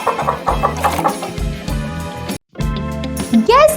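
A hen clucks in a few short bursts over a bed of farmyard sound, fairly close and moderately loud, with a brief silent gap before the clucking resumes.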